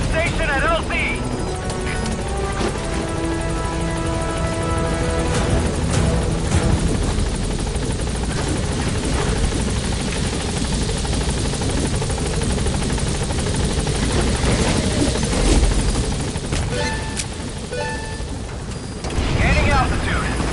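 The Pequod helicopter in Metal Gear Solid V comes in to land, its rotor giving a loud, steady chop and engine drone throughout, with radio-style speech over it.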